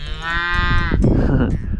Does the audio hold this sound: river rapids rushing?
no